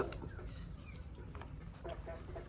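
A fighting rooster clucks close by in a series of short, rapid, throaty calls over a low background rumble.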